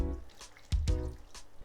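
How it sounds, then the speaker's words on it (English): A cup of water goes into a bowl while mixing a Japanese mille-feuille hotpot broth, heard as a few close, quiet splashes and drips in otherwise still surroundings. "Then in here I'm gonna put in 1 cup of water"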